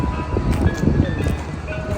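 Faint melodic chimes from an ice cream truck's tune drift from behind during a cold outing at a park, mixed with low traffic noise and nearby voices.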